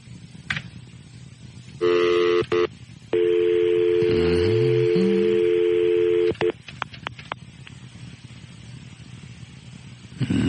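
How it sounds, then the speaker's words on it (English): A telephone is dialed up close, a rapid run of touch-tone beeps followed by a long steady tone lasting a few seconds, all over a faint background hum with no talking. "If I find Dan, get me the owner of that Harley-Davidson dealership on the phone."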